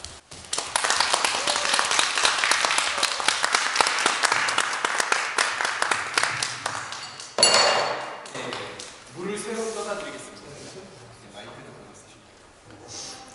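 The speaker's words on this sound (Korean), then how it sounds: "모실 때 큰 박수 부탁드리겠습니다." Audience applause welcoming a guest speaker at a worship service, dense clapping lasting several seconds before tapering off as a voice begins talking over the fading claps.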